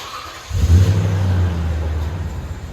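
A 2008 Toyota Sequoia SR5 with a 5.7L V8 and Magnaflow exhaust starts up and revs, a deep rumbling burst that swells after a quiet moment, then settles into a steady throaty drone, close by with no talking.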